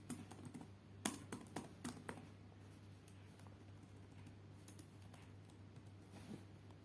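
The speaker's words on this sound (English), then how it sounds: "go to the search bar and type device manager." Keys clatter on a computer keyboard as a search term is typed into a Windows 7 search bar, a quick burst of close, crisp clicks early on that thins into a few scattered taps over a steady low hum.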